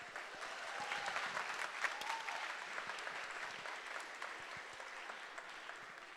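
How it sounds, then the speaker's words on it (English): An audience at an evening startup pitch competition awards ceremony claps for the award winners, a steady round of applause that swells and then slowly tapers off, with no voices over it. "Let's hear a round of applause for all our award winners."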